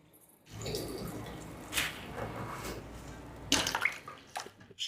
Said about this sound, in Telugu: ఇప్పుడు వాటర్లోంచి తీసి ఈ వాటర్ అంతా గట్టిగా పిండేసుకుందాం.